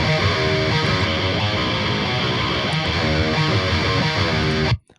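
A dense, distorted electric guitar with a thick mid-range tone plays continuously and loud, cutting off abruptly near the end.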